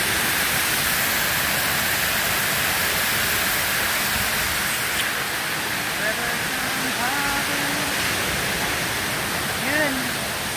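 The falls near Puerto Princesa, Palawan, roar in a steady broadband wash of water, with a few faint bird chirps near the end.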